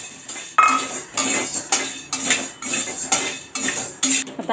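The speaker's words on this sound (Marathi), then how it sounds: "आता यामध्ये आपण साबुदाणे भाजून घेऊया." Sago pearls dry-roasting in a pan are stirred with a metal spoon, giving rhythmic scraping strokes and clinks against the pan, close and steady with no voices.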